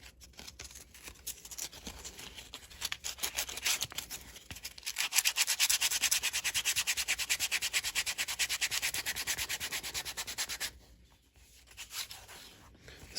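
Suede slip-on shoe, a Ferragamo, being rubbed with 120 grit sandpaper: a steady, close scratchy rasp in rapid back-and-forth strokes, softer at first, then loud and continuous for several seconds before stopping, with a brief return at the end.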